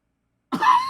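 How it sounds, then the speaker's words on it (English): A single cough or throat-clearing bursts out after about half a second of silence, close and moderately loud, from a person choking on something. "No matter how much I coughed"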